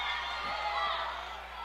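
A crowd cheers at a high school wrestling dual meet in a gym, a broad, moderately distant roar that swells briefly and then eases off.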